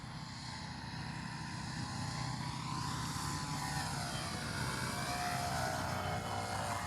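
An Avios Extra NG radio-controlled airplane flies overhead with a steady, continuous propeller and motor drone. The pitch sweeps smoothly as the aircraft passes, and the sound stays fairly loud with no talk.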